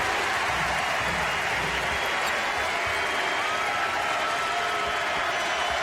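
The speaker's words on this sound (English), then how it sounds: "Crowd coming to their feet at the Moby Arena." Basketball crowd at the Moby Arena rising to its feet during a college game, a steady broad roar of cheering and applause filling the arena throughout.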